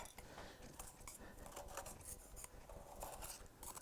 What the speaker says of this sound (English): But let's get the rest of this stone off